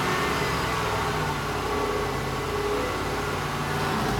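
An engine in a throttle-by-wire vehicle holds a steady elevated idle around 2200 RPM, a dense continuous roar with no breaks, loud and close throughout.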